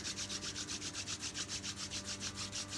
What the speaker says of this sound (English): Rub your face, rub your hands together.